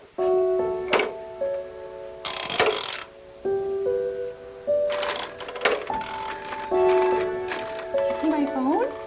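A telephone rings in short bursts of bright, bell-like melodic tones, close and fairly loud, with voices speaking between and over the rings.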